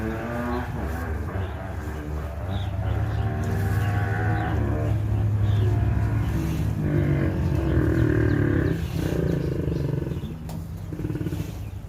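Cattle mooing repeatedly during artificial insemination on a farm, loud, drawn-out lowing calls filling the whole stretch with brief pauses between.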